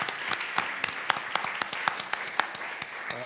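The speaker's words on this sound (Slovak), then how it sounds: "Jeden veľký potlesk, poprosím." Scattered applause from an audience at a Slovak talk event, individual sharp claps rising and falling across the clip, fairly close and moderately loud, with faint voices underneath.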